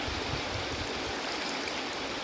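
A river in Tabuk, Kalinga province, Philippines, flowing as a steady, dense wash of rushing water close by, with an even roar and no voices.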